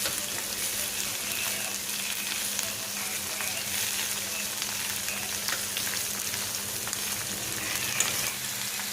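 Pumpkin frying in a pan with onions for a Manipuri fish curry gives a steady, close sizzle that runs unbroken and alone.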